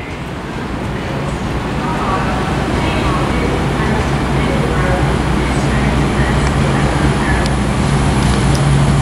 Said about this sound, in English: This will be the 1637 Midlands Railway service heading from Shrewsbury to Birmingham New Street